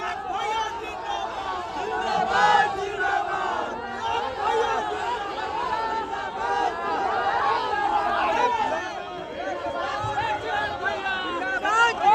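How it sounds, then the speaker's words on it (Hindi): A large crowd gathered at an outdoor political rally for Chirag Paswan, a dense, steady roar of chatter and shouting voices throughout, fairly loud and close. "आप देख रहे हैं दोस्तों की जनता में पूरा भीड़ मच गया है चिराग पासवान को देखने के लिए"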